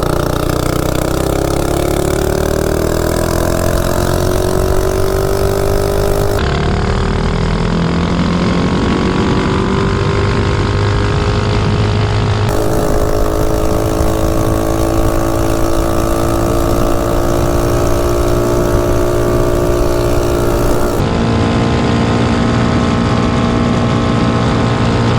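A Baja Warrior minibike engine with a jackshaft speed modification runs loud and close for a sustained stretch, its pitch rising and falling as the throttle changes.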